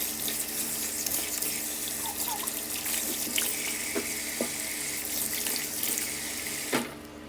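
Tap water runs steadily into a sink while a homemade face mask is washed off, a close continuous gush with small splashes and a brief clunk near the end as the flow changes.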